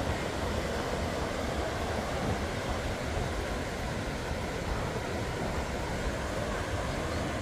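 Big ocean waves break steadily at Seminyak beach in Bali on a sunny day, a continuous broad roar of surf with no pauses and no voices.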